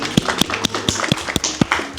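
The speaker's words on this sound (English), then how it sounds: "Round of applause for Kevin." A small group at a birthday party gives a round of applause, with a few people clapping in crisp, close, unevenly spaced claps and no talking over them.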